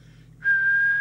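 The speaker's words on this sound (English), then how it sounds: "So just do a whistle check to see where we are." A steady, loud whistle held close into the microphone of a Skiptech TI4000FM UK CB27/81 mobile CB radio during servicing, starting abruptly after a quiet hum and sustained alone to the end.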